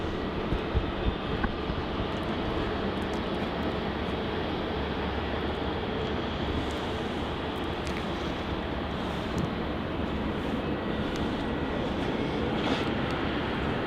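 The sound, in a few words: Virgin Australia Boeing 737-800 jet departing runway 27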